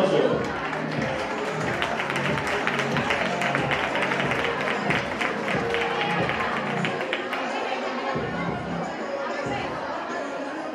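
Audience at a children's carnival contest in Chillón applauding, a steady patter of many hands clapping, with crowd chatter and an announcer's voice mixed in.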